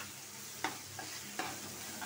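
Spice paste of ginger and garlic fried and stirred in a pan for taro with prawns, a steady sizzle with a couple of soft scraping strokes.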